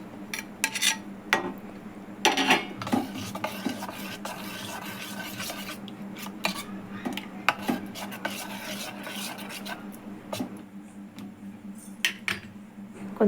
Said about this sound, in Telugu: ఈ పౌడర్ కూడా దీంట్లోనే వేసుకొని కలిపేసుకుంటున్నా.